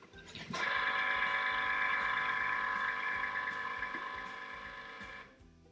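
A Cricut cutting machine powers back on with a steady mechanical whir and hum that starts abruptly, holds for several seconds, then cuts off, fairly faint and close by.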